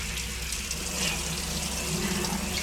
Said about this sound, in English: Let me see if I can rinse off what's on the seat here.